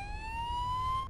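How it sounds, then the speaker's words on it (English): An ambulance siren from the Spider-Man 2 video game, one rising electronic wail that is loud and close over a low rumble, with no talk. "It sounds like an ambulance is coming."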